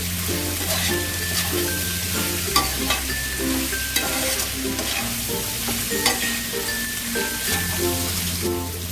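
Chicken, egg and prawns stir-fried with vegetables for mixed fried rice, a spatula clattering and scraping in a fast rhythm over constant sizzling, close up, with light background music.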